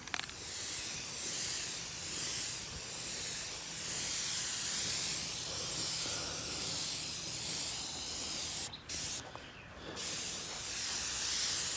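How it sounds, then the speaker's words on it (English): Aerosol paint hissing steadily from a spray can onto a cast iron and wood park bench being rebuilt, a continuous close spray with a couple of short breaks near the end. "Spraying like this so I get every edge."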